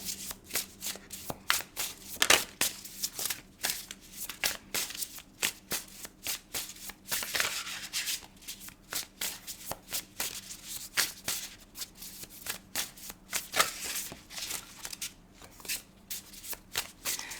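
Tarot cards shuffled by hand in a steady run of crisp riffling bursts and soft slaps, close and fairly quiet, with no talking.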